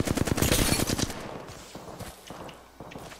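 Scout rifle gunfire in the Apex Legends video game: a dense, loud burst of rapid shots in the first second, then scattered single shots and softer impacts trailing off, with no talk.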